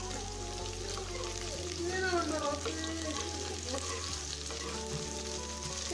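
Sliced onions and shallots sautéing in a pan for beef mappas, a steady close crackling sizzle with stirring scrapes, while a voice talks over it.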